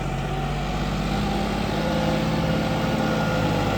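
A New John Deere 5210 4x4 tractor drives along a road with a steady low engine drone and constant road rumble, loud and close throughout without any talk.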